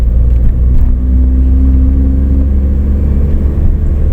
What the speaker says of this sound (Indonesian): Ini masuk ke gigi 2, kita tanjakan.